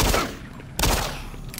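Shotgun blasts ring out in Doom 3, two sharp loud shots a little under a second apart, each trailing off into a short echoing decay.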